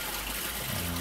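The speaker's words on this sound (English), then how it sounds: "You can see the initial flow" Water begins to flow through a newly replaced siphon in an aquaponics installation, a steady close trickling and gushing wash that fills the whole moment without any talk.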